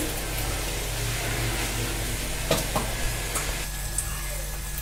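Onions frying in a pan over medium heat, a steady broadband sizzle running continuously with a few soft stirring clicks near the end, close and moderately loud with no talking.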